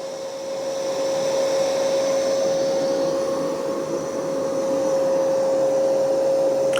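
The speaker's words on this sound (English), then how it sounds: "I've got it on max plus suction. And it's going to do 2 passes." A Mova E30 Pro Plus robot vacuum running on max suction while picking up long hair, giving a loud, steady whine with a constant tone that holds throughout, close and alone.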